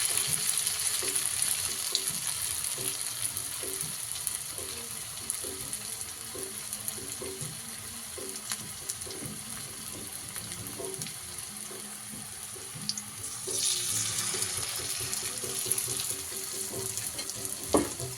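Food fries in a pan at home with a steady, soft sizzle and occasional stirring clinks, heard up close and fairly quiet throughout.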